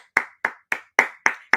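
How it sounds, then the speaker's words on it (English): Six sharp, evenly spaced claps from a single pair of hands ring out close and clear, with silence between each strike, as a show of applause for Roger Sherman II. "Clap it up for Roger Sherman II."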